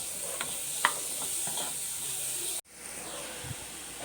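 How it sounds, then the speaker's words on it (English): Kurkure bonda mixture with coconut fries in a pan as a sweet snack, a quiet steady sizzle broken by a few light clicks and stirring taps, then a brief cutoff and softer hiss. "Now we should fry this"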